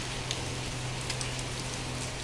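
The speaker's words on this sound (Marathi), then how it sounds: "एक आठवडा आता झाला पाऊस चालू आहे" Heavy, unseasonal May rain pours down in Goa: a dense, steady hiss of falling water with faint drop patter, unbroken and even in level, with no voices.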